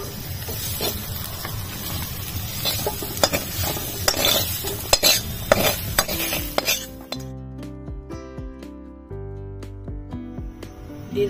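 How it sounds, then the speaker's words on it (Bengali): Soybean chunks and potatoes sizzling in a pan for a ghugni dish, stirred with a utensil that scrapes and clinks against the metal, then the frying stops and only a few clinks and rattles remain. "সোয়াবিন আলু ভাজা হয়ে গেছে, নামিয়ে নেব।"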